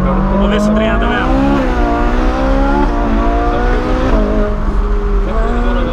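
Loud, continuous roar of a Ferrari engine accelerating hard, the pitch climbing in repeated surges as it revs up through gears, close and dominant with no talk.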